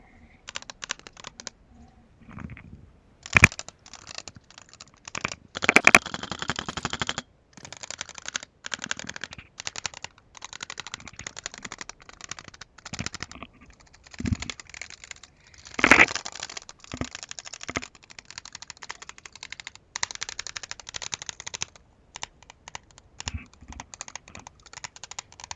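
Rapid clacking of a mechanical keyboard, keys tapped in quick uneven bursts with a few louder strikes, close to the microphone and with no voices.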